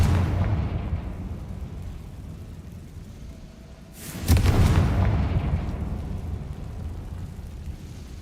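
A Confringo fire spell in Hogwarts Legacy goes off as one sudden, loud, close explosion with a rumbling roar that lingers and decays over several seconds against a low ambient bed.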